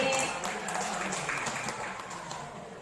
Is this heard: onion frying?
no